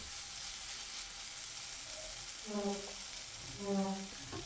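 Onion, tomato and spices frying in oil for paneer bhurji, a soft steady sizzle heard close, with a couple of brief spoon or pan knocks and no talking.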